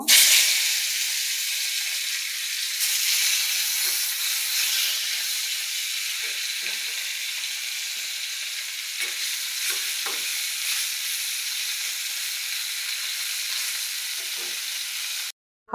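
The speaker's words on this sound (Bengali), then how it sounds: "এবার আর যেগুলো বাকি আছে ওগুলো ভেজে নিব" Tilapia fish frying in hot oil in a pan, a steady loud crackling sizzle that runs unbroken and close for the whole stretch before cutting off at the end.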